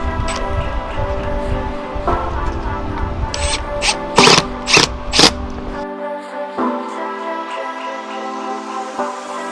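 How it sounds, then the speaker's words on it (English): Screws driven one after another to hold down the flange of a Maxx Air roof fan during a DIY Sprinter van build: a few short, loud motor bursts close by over a steady tonal background, then a quieter stretch. "Now I'm going to put in the screws, the 16 screws that go hold the flange down."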